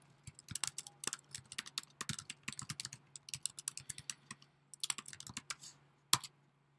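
Fast, uneven keyboard typing as login account details are entered on a computer keyboard: dense clusters of clicks close by, with short pauses and one sharp final keystroke, no voices.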